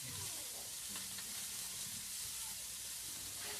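Vegetables sizzling in a frying pan while making a vegetarian stew, a quiet, steady hiss and crackle with faint stirring clatter, close but low in level.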